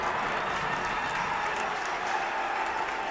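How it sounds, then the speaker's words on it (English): A crowd at a junior boys high school basketball finals game cheers and applauds loudly and steadily, a dense roar of clapping and shouting that carries on without a break. "That's grabbed by Frontenac, and the crowd's loving it."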